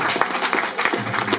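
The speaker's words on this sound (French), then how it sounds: "Encore une fois, on applaudit notre jeune animateur." Audience applause for a young presenter at a Wednesday evening show, a short dense burst of clapping from a crowd with a faint voice underneath.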